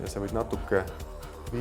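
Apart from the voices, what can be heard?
No everyday noise stands out behind the speech.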